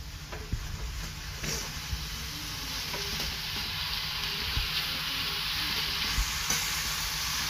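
Bread pakoda filling sizzles steadily in a hot pan while being stirred, a continuous close frying hiss with occasional soft scrapes and taps of the spoon, no voices.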